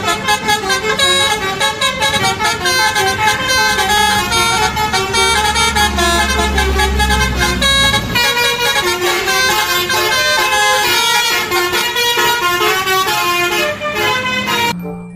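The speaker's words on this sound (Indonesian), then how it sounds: "kali ini ada bus PO Haryanto" A PO Haryanto bus sounds its horn in loud, sustained, musical honking that runs continuously for about fifteen seconds.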